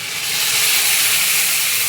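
Water poured into a hot pan of fried chickpeas, onion and vegetables for ghugni gives a loud, continuous steamy hiss that runs unbroken through the short moment.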